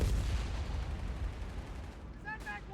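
Dense crackle of machine gun and gunfire in a Company of Heroes 3 World War II battle, steady and loud throughout, with faint game voice chirps near the end.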